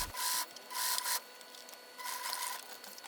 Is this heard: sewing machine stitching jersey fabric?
yes